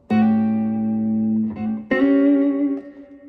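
Two strummed electric guitar chords voicing the flat seventh and major third together, each ringing out and sustaining, the second struck a little brighter and slowly fading.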